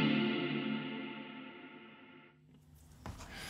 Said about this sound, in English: You can kind of set it so it kind of just cuts off the reverb.